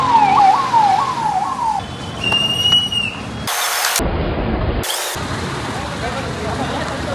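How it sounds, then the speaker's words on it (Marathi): A fire engine siren sounds as the fire brigade vehicle arrives at a hospital on College Road in Beed during a National Fire Service Week mock drill. The wail rises and falls loudly with traffic and background noise, while people talk nearby. "अवघ्या काही मिनिटामध्ये या ठिकाणी अग्निशमन दलाची गाडी दाखल झाली"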